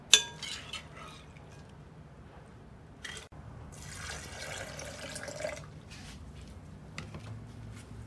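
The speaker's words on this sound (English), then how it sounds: "and pour some water in." Water is poured into a blender holding skinned soybeans, a splashing, gurgling stream running for a couple of seconds after a sharp clink of container against glass, with small knocks and drips around it.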